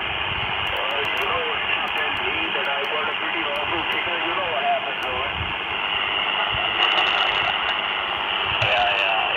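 Shortwave radio reception on 14210 kHz crackles with hiss, and a garbled, distorted single-sideband voice warbles through a narrow band without letup.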